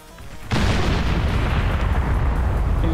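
Rocket strikes detonating in the real-time strategy game Beyond All Reason: a sudden heavy blast at about half a second opens into a dense, continuous roar of overlapping explosions that stays loud to the end.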